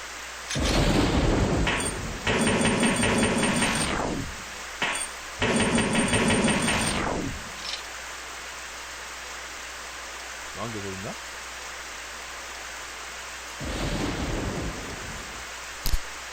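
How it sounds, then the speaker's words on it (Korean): Rain in a forest in the video game Strange Syndrome 2 comes in loud hissing downpour bursts of a few seconds each, separated by quieter stretches of soft background noise. "비가 내리는 숲."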